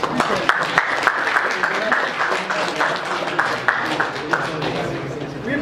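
Steady audience applause for a presenter at the end of a university SAP training session, moderately loud and continuous, with some voices mixed in.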